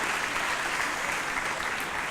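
A crowd of new students and staff claps together at a welcome ceremony, a thick continuous wash of applause holding steady from start to finish, with no voices rising above it.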